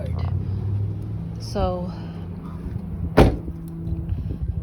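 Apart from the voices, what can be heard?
bad noise from car with dead 20-year-old alternator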